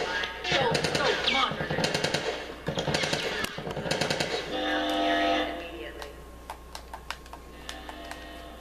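Rapid automatic gunfire from attacking Fireflies in The Last of Us, rattling in bursts over game noise and someone talking. The shooting thins out to scattered single shots.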